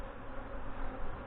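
Honey bees buzzing at an open hive during a summer inspection of a brood frame, a steady dense hum held close and fairly quiet throughout.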